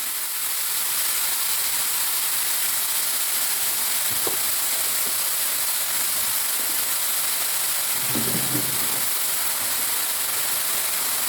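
Sliced onions stirred in a hot pan while browning for a desiccated coconut chicken roast, a steady close hiss of frying with a few soft scrapes of the spoon, no voices.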